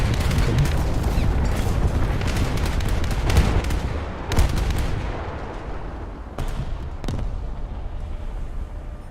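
40mm naval guns firing on an American coastal vessel in a naval combat game, with rapid, heavy booming shots in irregular bursts over a loud rumbling battle bed and occasional sharper cracks.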